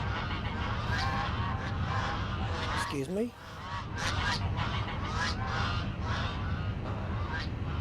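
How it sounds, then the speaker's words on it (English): A flock of geese or ducks honks as it passes overhead in Microsoft Flight Simulator 2024, a loud, busy chorus of repeated calls lasting throughout with a brief swooping call midway, and a voice speaks briefly. "Did we just get a load of ducks go over?"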